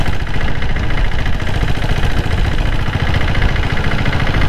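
A 7.5 HP diesel Bullet motorcycle engine fitted with a turbo runs loud and close, with a rapid steady knocking thump and a rough airy intake roar underneath throughout.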